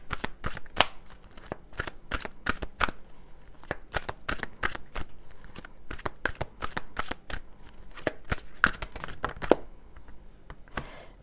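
A deck of angel tarot cards is shuffled steadily by hand, with a long run of crisp riffling snaps and soft slaps close up and no talking.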